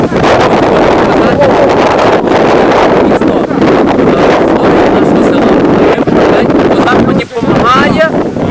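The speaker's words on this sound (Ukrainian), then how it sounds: "Але тут є вітер." Strong wind buffets the microphone outdoors in the village of Snovychi, Ukraine, in a constant loud roar, with a brief dip near the end.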